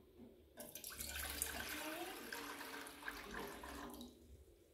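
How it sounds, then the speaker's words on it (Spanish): Water pours steadily from a tap into a cooking pot on a stove, a continuous splashing rush lasting several seconds at moderate level before stopping. "Voy a echarle un poco de agua."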